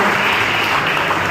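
A crowd at a public gathering applauds loudly, with dense, steady clapping that fills the whole moment without a break.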